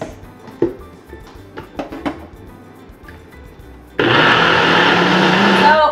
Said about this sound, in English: throw that onto the blender